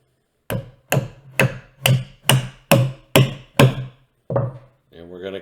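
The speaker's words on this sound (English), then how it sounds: "we're gonna hammer this in." Wooden mallet parts are driven together with a hammer in eight sharp, evenly spaced knocks, close and solid. After a short pause comes one last softer knock, then a brief rattling scrape.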